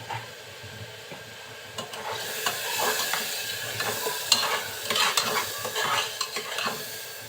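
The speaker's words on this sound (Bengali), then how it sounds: "সব মশলাগুলো তেলের সাথে খুব সুন্দরভাবে কষিয়ে" Ground coriander and chilli powder sizzling as they are stirred in hot oil in a pan, a steady frying hiss with scraping strokes of the spoon, close and continuous without any talk.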